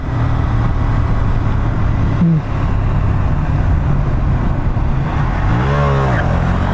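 A BMW G310 GS adventure motorcycle engine runs loud and close throughout, a steady rough drone with a brief dip partway through and a short rising rev near the end.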